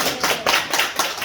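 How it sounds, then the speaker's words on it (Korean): A church congregation claps for their evangelist, a dense burst of many hands in irregular waves, loud and close, with no talking over it. "전도사님 위해서 박수."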